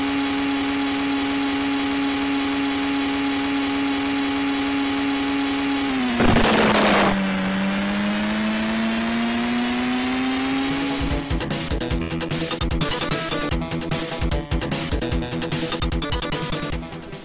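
Power Drift racing game on the Amiga: a loud, steady synthesized engine drone that dips in pitch midway, then gives way to a busy, rattling stretch of gritty game noise toward the end.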